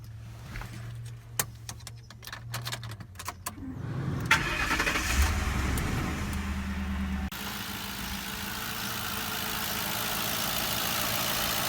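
Ex-police car with its engine starting up: clicks and a cranking burst, then the engine catching and settling into a steady, close idle drone that continues to the end.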